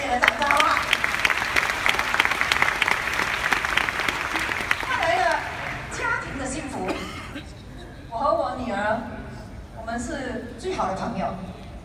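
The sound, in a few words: audience applause for Lu Xin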